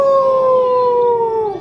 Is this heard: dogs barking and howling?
yes